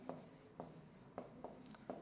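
Marker or chalk strokes on a board during an organic chemistry lecture: quiet, rhythmic scratching strokes repeat about every half second, with no talking.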